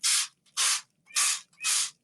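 A spray bottle sprays water onto a hands-on watershed model, four crisp hissing squirts in an even rhythm, close and clear with quiet pauses between.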